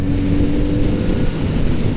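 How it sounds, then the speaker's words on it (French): A Kawasaki Z four-cylinder motorcycle engine drones loudly and steadily up close, a dense low roar with rushing wind noise over it. "et avec ce 4 cylindres très expressif"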